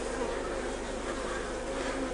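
Honey bees buzz steadily around an opened Langstroth hive during an inspection, with drones among them; a dense, continuous, close swarm hum with a clear tonal drone, no voices.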